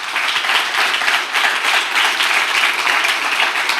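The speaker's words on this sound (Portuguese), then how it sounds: "Você pode aplaudir o Senhor por isso." A church congregation breaks into sustained, dense applause, steady and loud for the whole stretch with no pauses.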